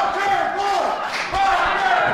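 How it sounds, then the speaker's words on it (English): A live wrestling crowd roars in a steady, loud wash of cheering, with a brief dip before surging again. "The crowd cheering for the Rocker Boy here."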